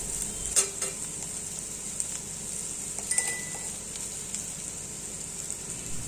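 A spoon stirs jackfruit gravy frying in a pan, a steady sizzle broken by several sharp metallic clinks and scrapes against the pan, close and without voices.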